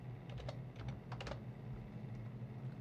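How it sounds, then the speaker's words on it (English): Clicks of a computer keyboard being typed on in short bursts, close and fairly quiet over a steady low hum, with no voices. "So I'll type that in."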